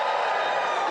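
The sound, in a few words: audience cheering at a stand-up comedy show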